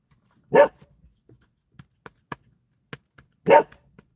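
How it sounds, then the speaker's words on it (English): A dog gives two sharp barks a few seconds apart, close and clear, with small scuffling noises in between and no talking. "because Naya, she keeps barking, so that's true"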